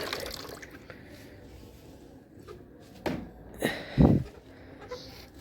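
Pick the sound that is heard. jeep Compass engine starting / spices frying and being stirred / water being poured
water being poured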